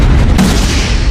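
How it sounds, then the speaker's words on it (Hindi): A paper bomb explodes in the Naruto Shippuden anime with a loud, continuous, roaring boom that fills the whole moment, dense low rumble with a brief sharper burst near the start and no voices. "हमें यहाँ एक और पेपर बॉम्ब मिला है। मैं इसे अभी डेटोनेट करना होगा।"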